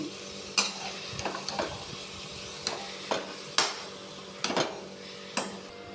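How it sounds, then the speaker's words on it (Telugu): Mutton fries over a high flame in a pan with a steady sizzle, broken by repeated scraping and clanking strokes of a spoon stirring the meat at an uneven rhythm. "హై ఫ్లేమ్లోనే వేపించుకోవాలి మనం"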